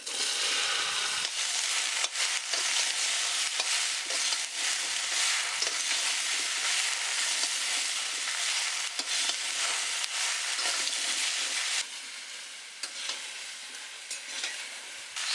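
Spices and whole green chillies frying hard in hot oil in a pan for a Bengali potato and cumin-tempered kochu loti dish, a loud, continuous crackling sizzle that runs steadily throughout and eases slightly near the end.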